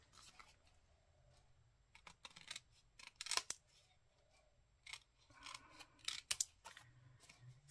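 Scissors snipping through card during a vintage Christmas craft session, a few quiet crisp cuts in short bursts amid faint rustling, close and fairly soft.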